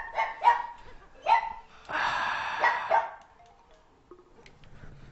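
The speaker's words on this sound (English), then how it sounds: "I gotta deal with a barking dog" A dog in a room barks several times, first two quick sharp barks, then one more, followed by a longer strained whining bark, close and loud before fading to quiet.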